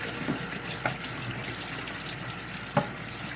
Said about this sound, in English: I'm going to leave my water running